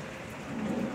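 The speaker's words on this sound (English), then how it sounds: "getting some needed rain. It's wind driven too." Wind-driven rain pours down on a street at night in Henderson, Nevada, a dense steady hiss of drops with a low rumbling undertone, close and continuous, with no voices.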